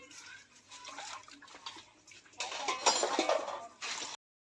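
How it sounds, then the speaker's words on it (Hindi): Dishes being washed by hand, with faint, steady clinks of steel utensils and pots, and a soft wash of running water that grows louder toward the end before stopping abruptly. "पिंकी जी इधर बर्तन मांज रही है।"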